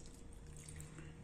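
Warm water poured into a container for mixing with toothpaste, a brief, faint trickle lasting about a second.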